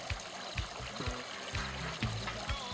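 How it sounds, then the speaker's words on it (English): Pond fountain sprayer with its valve fully open, running water that trickles and splashes steadily with small bubbling surges, close and continuous. "We've got the valve all the way open. And the sprayer system works."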